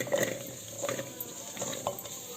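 Yam and raw plantain pieces are tipped into a clay curry pot, giving quiet scraping and a few light knocks against the earthenware, with no voices.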